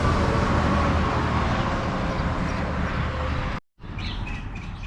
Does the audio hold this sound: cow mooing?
no